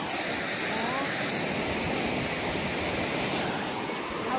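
Water pours steadily over a check dam on a river, making a dense, loud, continuous rushing wash that fills the whole stretch without a break.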